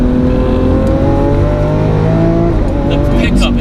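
Lamborghini Aventador engine pulling hard under acceleration from inside the car, a loud dense roar with rising harmonics and a gear change near the end, steady and close throughout.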